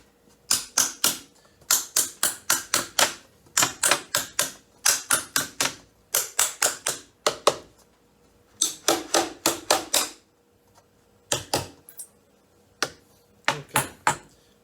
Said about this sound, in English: Okay, so I'm going to hammer these home now.